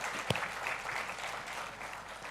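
An audience at a discussion event in a convention center applauds steadily, a dense wash of clapping with one sharp clap near the start, with no talking over it.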